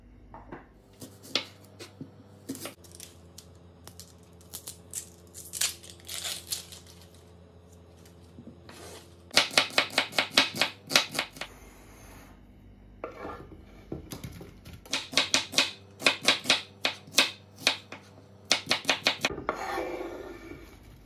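An onion is chopped with a knife on a board, in quick rhythmic bursts of sharp, close taps separated by short pauses and some clattering of kitchenware, with no talking.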